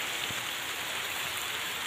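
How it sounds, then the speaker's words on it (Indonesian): Rain falls steadily in the middle of a forest, a soft, even patter and hiss heard faintly and continuously with no voices. "Saya tepatnya hujan di hutan, di tengah hutan ini teh."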